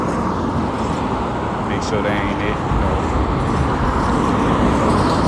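A bus rolls past on a road, its low engine rumble and tire noise building steadily into a loud, close roar as it goes by, while someone talks over it.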